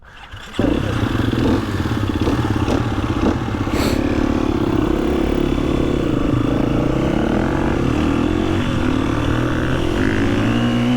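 A motorcycle works around an off-road training circuit, its engine loud and close with continuous revving and throttle changes, ending in a clattering rough ride with no talking.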